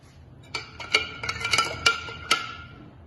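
A spoon clinking against a cup or glass while sattu is stirred into water with ice for a sharbat, a string of bright, close metallic taps at an uneven rhythm with no talk.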